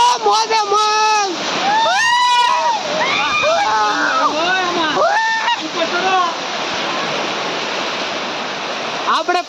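People splash and wade while bathing in a forest stream, with loud, continuous water rushing and sloshing close by and lively voices talking and shouting over it throughout.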